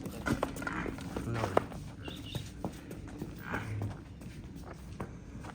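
A pure Nili Ravi buffalo at a farm home gives low, short lowing sounds while shuffling and stepping about, with scattered hoof thuds and soft movement noises close by.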